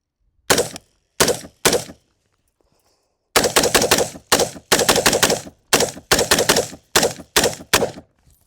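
Repeated shots from a PSA SABRE-10A1 .308 AR10 rifle with a 16-inch barrel, fired outdoors: three separate sharp cracks, a pause, then a quick string of about ten loud reports in close succession.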